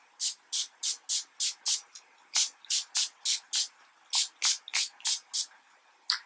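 Around twenty quick hissing spray bursts in a fast, fairly even rhythm, close by, each a short misty puff with tiny gaps between.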